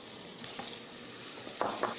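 Celery sizzles as it is tipped into a hot frying pot while making Russian borscht: a steady, dense crackling hiss, with a couple of sharper spatters near the end and no voices.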